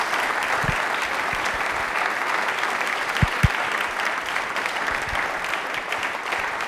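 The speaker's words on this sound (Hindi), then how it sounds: "एक बार तालियां जोरदार मैम के लिए हो जाए प्लीज।" An audience at a televised Independence Day quiz programme claps steadily, a dense, even wash of applause from many hands with a couple of sharper nearby claps.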